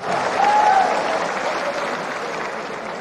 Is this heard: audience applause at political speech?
yes